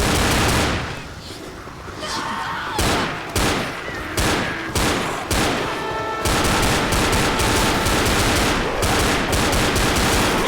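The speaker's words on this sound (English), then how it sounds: "Using the old pistols." Pistol fire in Left 4 Dead: loud, rapid, overlapping gunshots in dense volleys with brief breaks, ending in a continuous barrage of shots.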